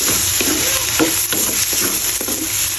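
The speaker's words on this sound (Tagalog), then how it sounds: "Mix-mix na natin hanggang sa maluto siya" Cooked shrimp paste (bagoong) stirred in a hot pan while making laing, a constant sizzle broken by regular scraping strokes of the spoon, loud and close with no voices.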